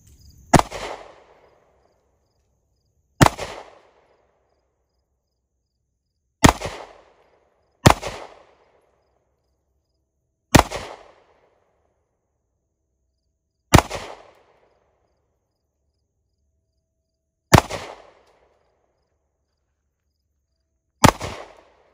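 Eight sharp, loud gunshots from rifles at an outdoor shooting range, among them a Kel-Tec Sub 2000 and a Winchester M1 Carbine .30 caliber, fired singly at irregular intervals of a few seconds, each a crisp crack with a brief echoing tail.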